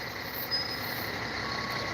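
A heavy truck passes outside. A steady, broad engine rumble and road roar fill the space, with a faint high beep layered over it.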